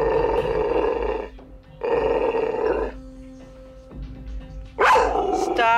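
A dog barks in a series of loud, sustained growling barks in bursts, close by, with a sharper yelp at the end and no talk over it.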